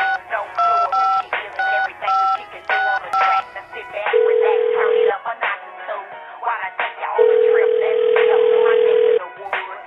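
Telephone handset sounds: a string of quick, evenly spaced DTMF dialing beeps followed by two long, steady ringback tones, clear and close with no talking over them.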